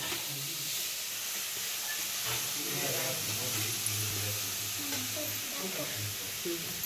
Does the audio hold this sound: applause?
no